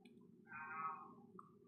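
A house cat gives a single short, fairly faint meow indoors over a quiet background hum, followed by a tiny chirp.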